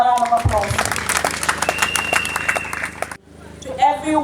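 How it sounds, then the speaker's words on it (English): Applause and cheering from the crowd at an annual association congress in Gambia fill the first three seconds loudly, then cut off abruptly before a voice starts speaking. "Can we give ourselves another round of applause?"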